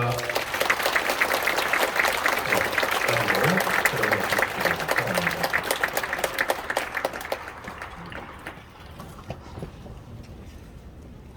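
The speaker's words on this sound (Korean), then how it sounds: "크게 축복하며 격려하며 박수해 주시기 바랍니다" A church congregation at an officer appointment ceremony applauds the newly installed officers, with dense, sustained clapping filling the hall before slowly thinning and fading out, while a voice speaks briefly.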